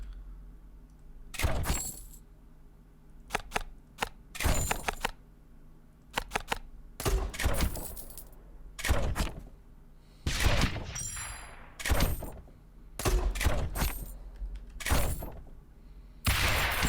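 Mortar tower firing in the Rogue Tower tower-defense game: a series of sharp, crackling impact bursts spaced irregularly, about a dozen short blasts with brief quiet between them, distinct and fairly close.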